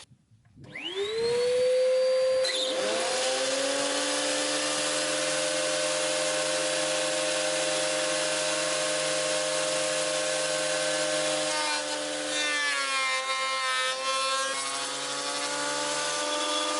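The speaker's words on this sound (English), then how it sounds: "So I've got my friend's planer again. I'm going to get these planed up" A borrowed power planer is fed reclaimed, upcycled wooden boards. It spins up with a rising whine, then gives a loud, steady mechanical roar that dips briefly under load before settling. No one speaks.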